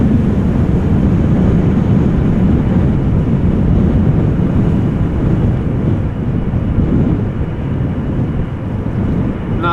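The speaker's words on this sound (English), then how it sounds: "Croatia Airlines now taking off from 18 left over here." A Croatia Airlines airplane taking off from runway 18 left at Amsterdam Schiphol during a storm, a low continuous engine roar heavily buffeted by strong wind noise, loud and steady throughout.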